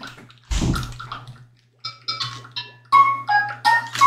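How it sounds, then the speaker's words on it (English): Cartoonish watering in the video game Pikuniku: a short burst of splashing water followed by bright, chirpy musical game blips and tones in quick clusters, all close and clean with no speech. "Wait, I need to water this."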